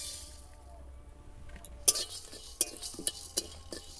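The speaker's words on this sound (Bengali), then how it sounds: "এবার আমি এর মধ্যে সব মশলাগুলো দিয়ে দেব।" Spices tipped into a pan of lightly fried dried red chillies while making a raw mango pickle, with faint background hum, then several sharp metallic clinks and scrapes of a spoon stirring against the pan.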